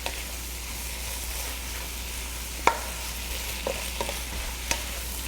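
Seafood stir-fried fast over high heat, a steady frying hiss broken by a few sharp metallic clanks of the utensil against the pan, close up and without talking.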